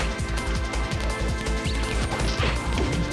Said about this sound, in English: That glass breaking sound means we are about halfway through the fight.